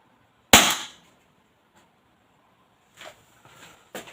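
A single sharp, loud air rifle shot cracks close by and decays quickly, followed by quieter clicks and handling noises from the gun a few seconds later.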